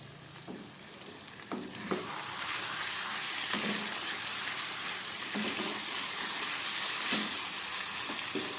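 Chicken sautéing in a pan with mutton fat and oil gives a steady, close sizzle throughout, broken by several dull scrapes and knocks of a spoon stirring the pieces.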